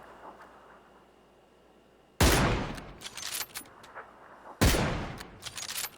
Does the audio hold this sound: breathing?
no